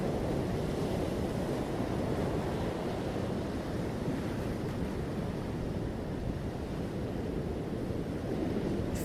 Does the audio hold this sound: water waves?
yes